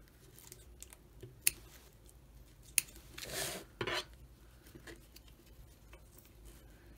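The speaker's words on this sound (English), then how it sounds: "Pull up gently on the edge of the fabric, and that will help get it away so that you can make a nice clean cut." Scissors trim fabric in quiet, sparse snips and small clicks, with a couple of sharp ticks and a brief rustle of cloth handling near the middle against a faint, still background.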